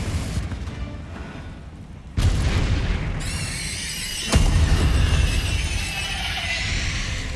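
A Confringo fire spell explodes in Hogwarts Legacy, landing as a deep booming blast that jumps sharply in loudness, with a second sharp burst a couple of seconds later over a rumbling game-battle backdrop.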